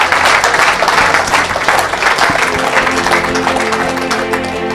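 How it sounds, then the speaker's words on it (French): Congregation at a charismatic church service clapping and applauding loudly and steadily, a dense continuous wash of hand claps with crowd noise throughout. "Acclamez pour Jésus"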